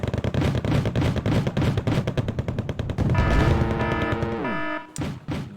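Gunfire aimed at vehicles in a war video game, loud rapid automatic bursts followed by a falling mechanical whine as the firing stops, with no talk.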